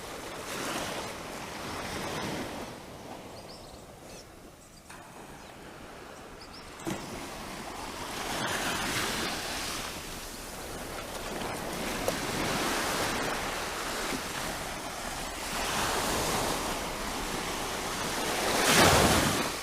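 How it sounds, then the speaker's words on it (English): Sea waves roll in on a beach in Barbados, swelling and washing ashore in slow surges that rise and fall, close and fairly loud, with wind buffeting in between and no talk. "you can enjoy these waves for a couple of seconds"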